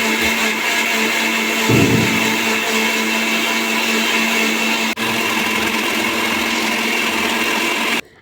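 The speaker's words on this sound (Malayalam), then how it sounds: "നമുക്കനി ഇതൊന്ന് അരച്ചെടുത്താലോ ഒന്ന് നമുക്ക് അരക്കാം" A mixer grinder running at full speed as it grinds spices with curd into a paste, a loud, steady motor whine with a brief rougher burst near the start, cutting off abruptly at the end.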